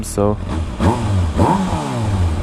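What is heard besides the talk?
motorcycle engine revving with new exhaust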